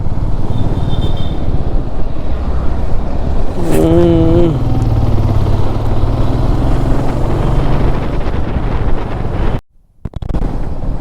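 A motorcycle on a long ride through village roads in Odisha rumbles steadily throughout, heavy wind buffeting over the engine drone, with a brief cutout near the end.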